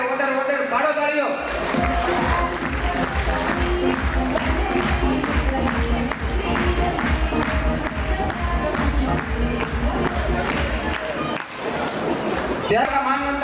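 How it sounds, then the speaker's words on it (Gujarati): Honoured guests at a family reunion receive loud, sustained applause from the gathered audience, a dense burst of clapping that begins abruptly and stops near the end, with voices mixed in. "એક સાથે જોરદાર તાળીઓ. 2 વખત તાળીઓ."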